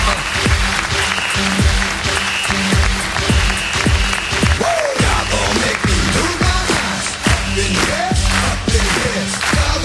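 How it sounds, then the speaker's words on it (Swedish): A live comedy club audience in Stockholm gives a comedian a big, steady round of applause with dense, continuous clapping, a few cheers and faint voices mixed in. "Ge en stor applåd till Janne Westerlund"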